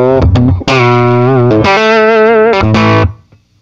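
An electric guitar plays through a Lazy J 20 tweed amp with the tone about halfway and the mid boost engaged. A few loud, thick, sustained chords ring out with slight grit, then the last one fades.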